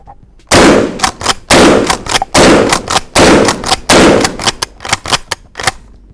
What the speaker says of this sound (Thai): สุดท้ายนะครับเดี๋ยวจะทดสอบตัวปืนนะครับวินเชสเตอร์กระบอกนี้จุไป5นัด ลูกโอบัก